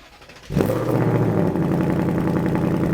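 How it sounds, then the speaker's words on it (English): A 2024 Ford Mustang GT V8 fires up from cold after a quiet moment, catching with a loud burst and then settling into a steady, rumbling high idle that continues unbroken. "And the cold startup on these is something to experience."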